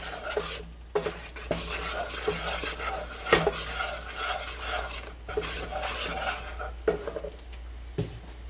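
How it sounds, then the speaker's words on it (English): A spoon stirs a thick, melting chocolate truffle mixture in a small pot, repeated scraping and clinking strokes against the metal over a low bubbling hum, close up with no speech. "You do want to keep stirring it so it can bubble over and it doesn't burn, especially if you're in a smaller pot"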